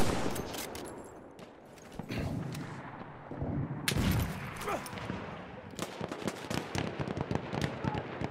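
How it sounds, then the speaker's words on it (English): Rapid bursts of machine gun fire crackle amid scattered gunshots and explosions during a Battlefield 1 team deathmatch, loud and chaotic with uneven clusters of shots. "Enemy machine gun."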